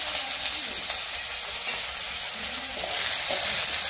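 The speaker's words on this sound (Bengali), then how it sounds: "একটু বাজা করে নিই।" Greens fry in a hot pan, a steady loud sizzle with faint stirring scrapes running right through, close up and with no talk over it.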